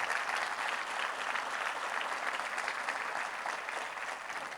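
Sustained applause from a church congregation, thick and continuous clapping from many people at an even level, fading only slightly near the end.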